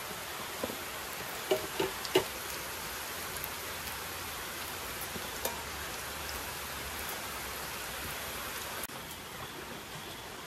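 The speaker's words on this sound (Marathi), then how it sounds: "आज पाऊस खूपच असतो." Steady heavy rain falls throughout as a dense, even hiss with scattered drop impacts and a few sharper splashes, moderately loud and with no talking.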